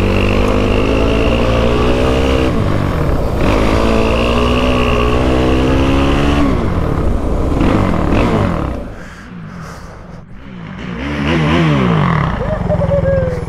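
A quad ATV engine, either a Kawasaki KFX450R or a Yamaha Raptor 700, revs hard while riding, loud and close, with rising and falling pitch as it climbs through the gears and briefly eases off before revving again.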